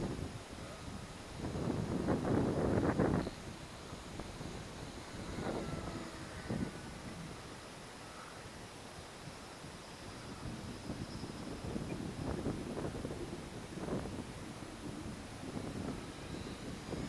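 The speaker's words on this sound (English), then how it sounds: "Wind jerking that sucker all over the place." Strong wind buffets the microphone during a flight of an RC Durafly Tundra plane in gusty conditions, a continuous rushing roar with louder gusts early on and again later.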